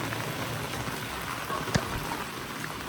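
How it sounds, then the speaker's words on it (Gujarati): Heavy rain pours steadily onto an open rooftop terrace, a dense continuous hiss with one brief louder splash partway through and no voices. "એટલો વરસાદ આવે છે ને તમને વિચાર નહીં થાય"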